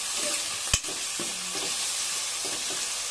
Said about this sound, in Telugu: ఉల్లిపాయలు బాగా మగ్గిపోవాలి